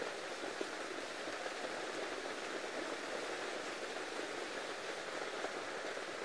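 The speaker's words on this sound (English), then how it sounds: "the rain is getting quite deafening above my head. You can probably hear that." Heavy rain drums on a roof directly overhead with a dense, steady roar that holds evenly throughout, with no voices.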